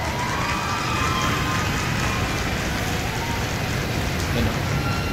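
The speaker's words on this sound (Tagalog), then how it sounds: "Maulan na kalangitan." Steady rain drizzles under an overcast sky near the LRT Libertad station, a dense continuous hiss of drops with a faint low rumble of traffic beneath, unbroken for the whole stretch.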